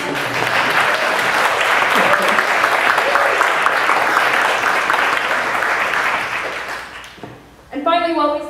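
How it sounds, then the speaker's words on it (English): An audience claps steadily in a dense wash of applause that fades out, then a voice speaks at the end. "How about some quick applause for Claire for handling all the notes?"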